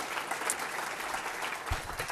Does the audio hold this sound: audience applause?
yes